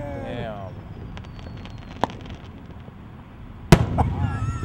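Fourth of July fireworks burst at a distance with a thin whistle and scattered crackles. A sharp report comes partway through, then a loud close bang with crackling tails, while people murmur nearby.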